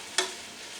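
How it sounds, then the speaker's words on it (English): Butter for clam chowder sizzles in a pot, with one brief, sharp hiss and stir near the start that fades into a faint, steady frying crackle. "Alright, got that butter nice and melted."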